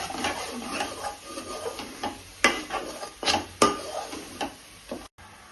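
Fish curry masala fries in a pan while a spoon stirs it, producing a low sizzle broken by repeated sharp scrapes and clinks of metal on the pan, close up and with no speech.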